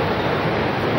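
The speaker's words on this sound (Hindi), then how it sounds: "पानी का शोर बहुत है, समंदर की स्पीड माशाल्लाह बहुत है, पानी ठाठे मार रहा है" Fast river water in Azad Kashmir rushes in a steady, loud, broadband roar that fills the whole moment, with no voices.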